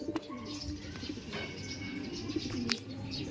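Soft pigeon cooing repeats through a steady outdoor background hum, with a few faint chirps and rustles along the way.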